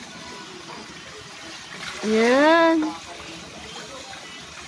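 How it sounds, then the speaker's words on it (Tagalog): Water poured from a dipper during a shower, a steady hissing splash running throughout, with a short spoken word rising over it midway. "Oh, buhos ka ng tabo."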